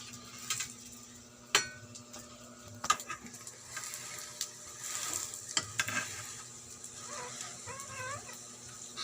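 Egg frying in a pan, with a faint soft sizzle broken by sharp clinks and scrapes of utensils against the cookware.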